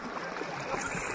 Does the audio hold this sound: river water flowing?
yes